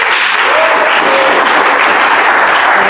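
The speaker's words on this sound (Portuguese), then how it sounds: "glorifica ao Senhor com as palmas" A church congregation applauds during a Sunday family service, a loud, continuous, even roar of many hands clapping together with no break throughout.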